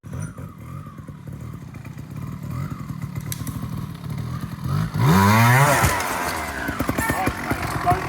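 A TRS 125 trials motorcycle ridden over sections at a trials ground runs with a popping low rumble, then gives a loud rising rev burst near the mic, with a rider talking over parts of it.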